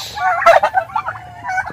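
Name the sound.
turkeys gobbling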